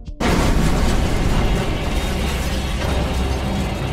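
A car doused with petrol and set alight explodes: after a brief quiet moment a loud, sudden blast gives way to a sustained roaring rumble of fire and debris that stays heavy to the end.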